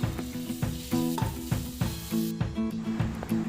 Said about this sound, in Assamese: আৰু ইয়াতে আমি বইল চাওমিনখিনি দি দিছোঁ। ভালদৰে ভাজি ল'ম এতিয়া।